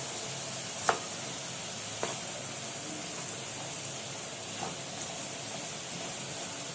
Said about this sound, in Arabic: انا مخرطة بصلتين كبار، هحطهم وهقلب